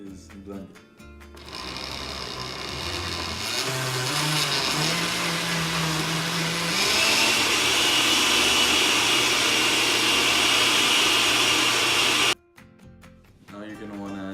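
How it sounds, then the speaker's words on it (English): A countertop blender whirs through watermelon chunks and water, a loud continuous motor roar that rises in pitch partway through, then cuts off abruptly near the end. "What you're gonna want to do is blend it."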